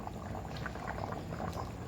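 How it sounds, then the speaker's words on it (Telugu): Thickened fish curry bubbling steadily in a pot, with a dense, continuous simmering crackle and soft popping bursts, fairly close and even throughout, no voices. "చూడండి పులుసు మొత్తం మరుగుతుంది, చిక్కగా అయిపోయిందండి"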